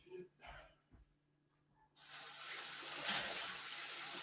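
Tap water runs steadily and loudly from a faucet while a cocktail jigger is rinsed, following a few quiet bumps and breaths before the flow starts.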